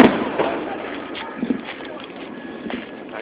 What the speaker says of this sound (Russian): просто взрывы.